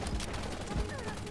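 Gunfire in the shooter game Wild Assault: a dense, continuous fusillade with bursts near 0.2 and 0.8 seconds, loud and close, with game chatter mixed underneath.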